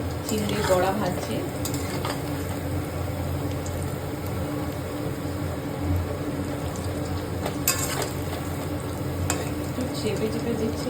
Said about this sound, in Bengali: চিংড়ির বড়া ভাজছি,